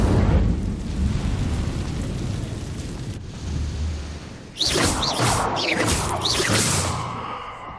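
Incendio fire spell cast in Hogwarts Legacy, a low rumbling roar that swells into bright whooshing flame bursts with crackling fiery sweeps over the second half, loud and up close with no talk.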